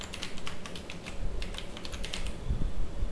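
Rapid, steady typing on a computer keyboard, close and clear, with dense irregular key clicks running throughout and no voices.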